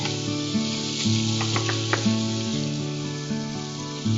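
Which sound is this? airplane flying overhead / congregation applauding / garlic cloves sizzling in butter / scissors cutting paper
garlic cloves sizzling in butter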